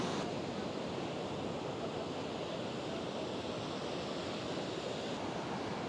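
Ocean surf at Kuta Beach in Bali rushes in a steady, dense wash of noise, constant and fairly loud with no distinct individual wave breaks.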